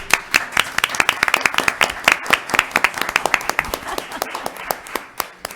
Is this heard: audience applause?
yes